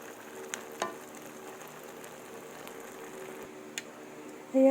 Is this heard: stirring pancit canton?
yes